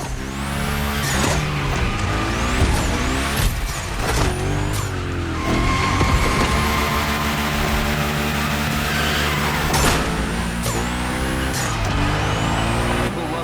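Hoonicorn car in a Gymkhana racing video game, engine revving and changing pitch repeatedly as tires squeal through long slides and drifts, loud and continuous with sharp gear and throttle shifts.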